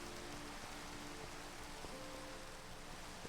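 Steady rain in Minecraft falls as a constant, even hiss across the whole clip, fairly quiet, with faint tonal lines from the game running underneath and no talking.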